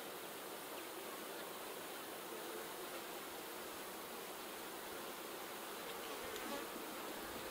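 Honey bees buzz around an opened hive holding brood and queen cups, a dense, continuous hum that is soft but steady throughout, close by and with no voices.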